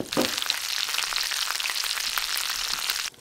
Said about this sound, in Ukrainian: жир, кишка прогрівається і поступово краєчки обсмажуються